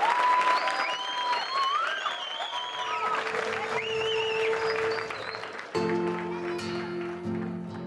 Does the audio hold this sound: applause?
yes